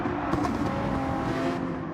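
A Porsche race car engine in the racing game Gran Turismo 7, droning steadily at high revs, close and loud with a smooth continuous tone for two seconds and no talking.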